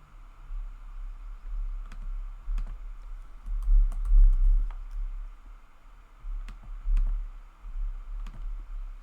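Computer keyboard typing and mouse clicks while a shop collection is set up on an e-commerce website builder, with light, close, scattered taps and clicks in irregular bursts over a quiet background hum.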